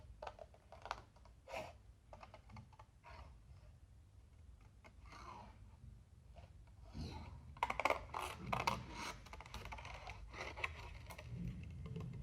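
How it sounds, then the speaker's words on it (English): Scissors snip and crunch through thick paper, with irregular cutting sounds and rustling, quiet at first and growing busier and louder partway through. "How nice does the sound of thick paper being cut sound?"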